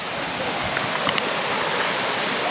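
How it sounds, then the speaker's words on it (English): A monsoon stream flows on the trek to Devkund waterfall in Tamhini Ghat, giving a steady, close, broadband rush of water that runs unchanged throughout. "This is a stream that we just crossed."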